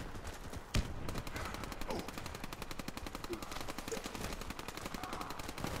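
Rapid automatic gunfire in a video game shooter, a fast steady stream of close shots with one sharp louder bang early on, running throughout with no talking.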